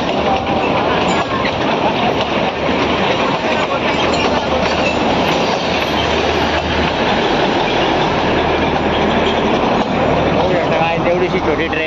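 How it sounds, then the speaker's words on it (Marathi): The Matheran toy train, a small hill-station train, rolls past close by with a steady loud rumble and clatter of wheels that lasts throughout, with a voice talking over it. "टॉय ट्रेन आली आहे माथेरानची"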